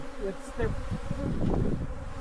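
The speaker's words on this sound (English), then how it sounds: "Oh, the bees." Dense buzzing of bees swarming around a hive's brood comb, steady and close throughout, with a few faint voices murmuring underneath.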